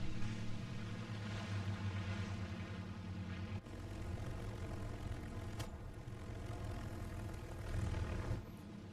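Propeller airplane engine in a flying video game, a steady droning hum with a low harmonic buzz, briefly dipping and swelling, heard alone at a low level.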